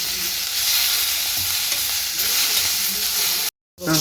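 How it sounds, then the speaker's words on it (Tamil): Curry leaves and spices sautéing in a pan for curry leaf chutney, a continuous close hissing sizzle with stirring scrapes, cut by a brief silence near the end. "இதை நல்லா வதக்கிட்டேன் ஈரமும் போயிடுத்து"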